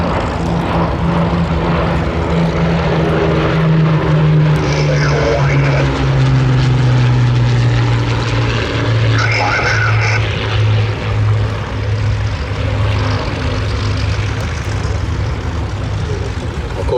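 A pair of Hawker Hurricane warbirds with Merlin engines fly at the Sywell 2024 airshow, a loud continuous propeller drone that slowly drops in pitch as they pass, steady throughout.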